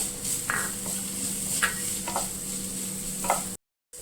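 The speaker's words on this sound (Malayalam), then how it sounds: "ഇനി ഇതിലേക്ക് വെളുത്തുള്ളി ഇഞ്ചി പച്ചമുളക് നന്നായിട്ട് ചോപ്പ് ചെയ്ത് ചേർത്ത് കൊടുക്കുക നന്നായിട്ട് ഇളക്കി കൊടുക്കുക" Chopped garlic, ginger and green chilli stirred in a pan for a capsicum and sweet corn masala curry, a soft steady sizzle with a few scraping strokes of the spoon, close by, no talking.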